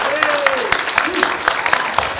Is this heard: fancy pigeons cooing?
no